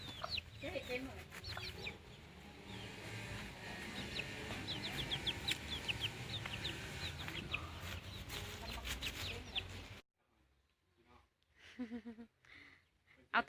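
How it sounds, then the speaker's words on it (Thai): At a rural Thai village home, small chickens cluck and chirp close by in short repeated calls under a busy background. People talk throughout, and a quieter stretch at the end holds a few more calls. "ไก่น้อยคือเจ็บขานี่"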